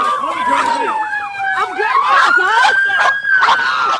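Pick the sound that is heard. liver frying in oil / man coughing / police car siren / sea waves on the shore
police car siren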